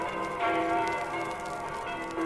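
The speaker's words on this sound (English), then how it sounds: "gotta get out of the way of the sound waves of those bells" Ringing bells as a sound effect in an audio drama, a sustained metallic clang with lingering overtones, steady and fairly loud with no voices over it.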